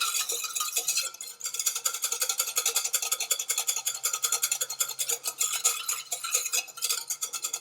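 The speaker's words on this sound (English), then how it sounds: "And we're going to beat that furiously until it goes together to make a sabayon. When a spoon doesn't work, you use a whisk." A whisk beats sauce rapidly into a sabayon in a warm pan for lobster with sauce choron, a fast, even metallic scraping rhythm, close and loud, continuing without pause.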